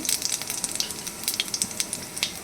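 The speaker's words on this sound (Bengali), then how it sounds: "জিরে ফোড়ন দেব। এবার এর মধ্যে দিচ্ছি আমি কিছুটা জিরে" Cumin seeds crackle and sizzle in hot oil for tempering in a pan, a close, lively spattering with rapid irregular pops over a steady frying hiss.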